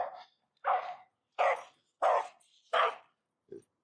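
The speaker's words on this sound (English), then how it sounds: "he starts barking because the other pup starts barking" A young dog barks in a short series of five sharp, fairly loud barks at a steady pace, ending with a small clipped yip, heard close with no one speaking.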